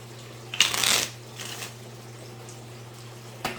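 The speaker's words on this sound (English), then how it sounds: "That way I don't have to keep shuffling." A tarot or oracle card deck is riffle-shuffled in one quick burst, followed by a softer second shuffle and a short flick, against a low steady hum.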